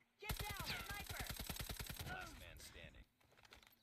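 Rapid automatic gunfire in an online shooter game, a fast loud burst of evenly spaced shots lasting about two seconds, followed by a few scattered impacts and quieter game noise.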